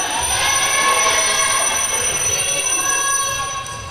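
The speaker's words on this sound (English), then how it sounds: "That bell's still ringing. It's the telephone, no one's answering it." An unanswered telephone bell rings continuously at a netball match between Israel and Switzerland, a steady loud electric trill holding for several seconds without break.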